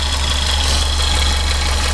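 A 2002 Subaru Outback engine with an EVAP high purge flow fault idles steadily and warm, a constant low hum with a faint knocking undertone and no talking.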